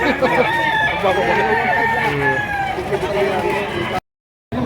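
A rooster for sale at a market in Lipa, Batangas, crows loudly close by with other fowl clucking, over busy background chatter, then cuts to a brief silence.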